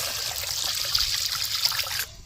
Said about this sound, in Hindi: पानी डाल दिए हैं